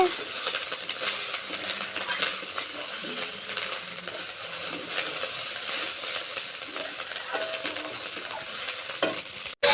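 Fried rice is stirred and tossed in a hot pan, with a continuous close scraping and light sizzle that goes on steadily, broken now and then by small metallic ticks.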